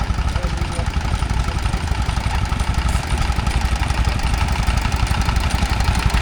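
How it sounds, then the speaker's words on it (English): A Lister D stationary engine drives an air pump at an outdoor rural show, running with a loud, steady, rapid chugging beat close by throughout. "there's a Lister D with some sort of air pump."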